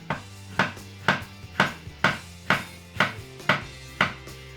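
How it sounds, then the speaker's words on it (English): A handmade knife cutting a strawberry on a board, about nine crisp, evenly spaced chops roughly half a second apart, close and clear with no talking. "I'll cut a strawberry."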